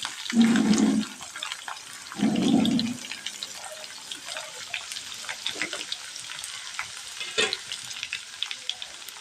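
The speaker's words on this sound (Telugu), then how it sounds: "ఉల్లిపాయ ముక్కలు అయితే ఫ్రై అయిపోయినాయి" Onion pieces with green chillies fry in a pan with a continuous sizzle. Two louder, rushing bursts come near the start, then lighter crackles and stirring clicks continue up close.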